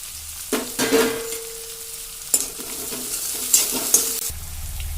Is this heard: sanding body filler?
no